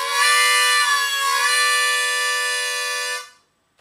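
Harmonica played on holes 3, 4 and 5 with inhaled breath and jaw movement to imitate a train whistle: one loud, sustained wailing chord lasting about three seconds, bending slightly in pitch, then cutting off into silence.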